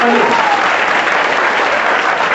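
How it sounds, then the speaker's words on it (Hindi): Loud, sustained applause from a live audience at a public event on saving daughters in Varanasi, a dense steady wash of clapping that fills the whole clip, with a brief trace of a voice at the very start. "तालियां तो बनती है इनके लिए जोरदार"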